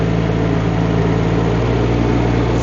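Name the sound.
Rippa R18 mini excavator driving in high gear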